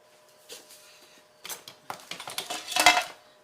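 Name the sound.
whisking cocoa, sugar and salt dry ingredients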